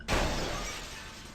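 Glass shatters in a Tomb Raider level editor game after gunshots, a sudden loud burst followed by a long scattering tinkle of falling shards, close and alone.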